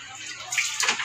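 Floodwater swirls and rushes around a house in a flooded Filipino neighborhood, a close, continuous watery wash that swells louder toward the end, with a person speaking faintly under it.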